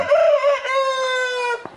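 A rooster crows once nearby, a loud sustained tonal call that holds steady and then breaks off, followed by a brief faint click.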